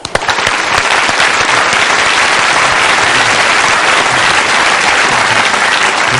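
Studio audience applauding to welcome figure skating couple Shen Xue and Zhao Hongbo onto a television interview show, a dense, steady wash of clapping that stays loud and even throughout.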